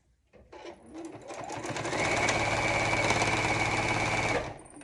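Sewing machine stitching fabric binding: the motor whirs up after a brief start, then runs at a steady, loud, even hum with rapid needle chatter for several seconds before stopping abruptly.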